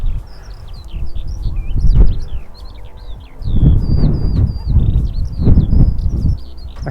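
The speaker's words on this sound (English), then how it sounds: "You hear the skylark." Skylark song from spring dunes by the sea: a continuous high, warbling stream of rapid trills and chirps carrying on throughout, over low wind rumble and footsteps that swell and fade.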